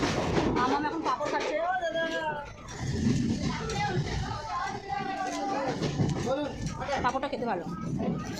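Rumble and clatter of a passenger local train running between Dum Dum and Ichapur, heard from inside a near-empty carriage as a steady background under continuous close conversation.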